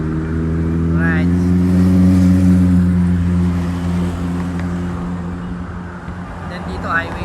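Vehicle engine noise on the Danao City highway in Cebu, a steady loud mid-low drone of passing traffic that swells and eases, with faint higher whines near the start and end.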